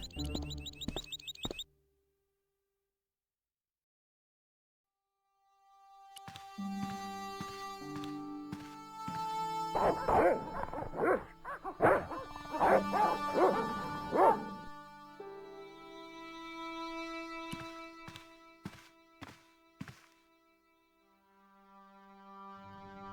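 Dogs bark in the Broken Sword: The Shadow of the Templars game, a burst of repeated bow-wow barks and yips packed together mid-clip, then a few scattered barks, with game music around them and no talk.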